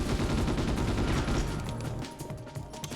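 Sustained gunfire in the Ghost in the Shell: Stand Alone Complex video game, with men firing shotguns in a dangerous room. Dense, loud, continuous blasts fill the opening half, then thin into scattered, slightly quieter shots.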